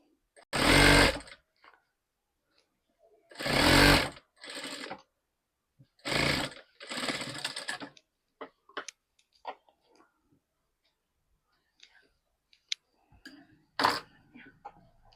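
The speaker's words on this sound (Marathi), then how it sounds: "इथे डबल शिलाई मारायची तर असं करायचं आहे बघा" A sewing machine runs in several short bursts while stitching a double seam along a hook strip, with quiet pauses between the runs.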